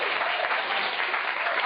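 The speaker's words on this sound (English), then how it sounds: "Give her a round of applause" A studio audience on a radio show gives a guest a short burst of dense, steady applause, many hands clapping together at an even level throughout.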